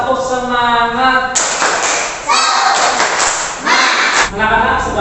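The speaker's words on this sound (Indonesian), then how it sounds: "Tepuk semangat." A classroom of children does a rhythmic group hand-clapping chant for Indonesian school encouragement, with loud bursts of clapping and voices that alternate with a sung or chanted tone.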